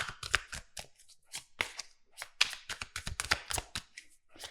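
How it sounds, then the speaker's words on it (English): Tarot cards are shuffled by hand in a quick, uneven series of crisp riffles and papery slaps, close and fairly quiet, with short pauses between bursts. "Let me just give this a good shuffle."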